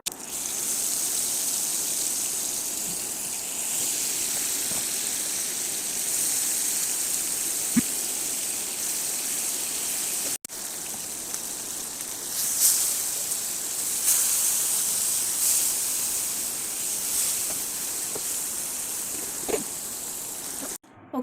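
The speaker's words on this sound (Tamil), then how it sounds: "நம்ம இன்னும் கொஞ்சமாக எண்ணெய் ஊற்றிட்டு பேலன்ஸ் இருக்க ஃபிஷ்ஷை ஃப்ரை பண்ணி எடுத்துப்போம்." Fish fries in hot oil for a Tamil-style meen varuval, a steady high sizzling hiss that holds throughout with small pops and crackles, loud and close with no voices over it.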